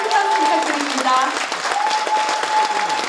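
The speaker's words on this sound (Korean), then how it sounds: "다시 한번 큰 박수 부탁드립니다" Sustained applause from a crowd at an agricultural research conference, steady dense clapping throughout with a faint tonal hum underneath.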